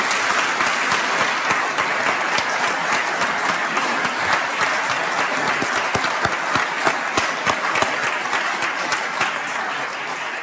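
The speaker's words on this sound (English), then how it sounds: "So please give yourselves and our statewide partners a big round of applause" A large audience at the Indiana State of the State address gives sustained, loud applause, with dense clapping and sharp individual claps standing out, holding strong for ten seconds and easing only slightly toward the end.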